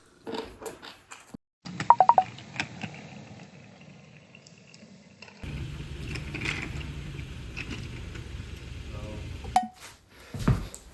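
A microwave heats frozen Costco kimbap: handling clatter and a few button beeps, then a steady low hum of the running oven for about four seconds, ending with a beep and more clatter.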